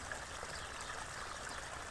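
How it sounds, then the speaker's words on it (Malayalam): Water streams and trickles steadily onto onion plants, a soft continuous splashing heard fairly faintly with no talking. "സവാളക്ക് വെള്ളം വിടുകയാണ് വെള്ളം"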